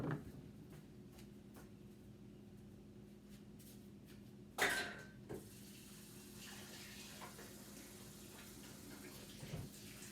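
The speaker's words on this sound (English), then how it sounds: "I'm going to go wash this out really quick before it gets too hard." Tap water runs steadily into a sink while a bowl coated in hardening microwave tanghulu sugar syrup is rinsed out, with a brief louder splash and clatter midway and a few soft knocks.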